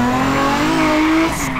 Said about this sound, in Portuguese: Continua segurando o acelerador pro carro poder andar, viu?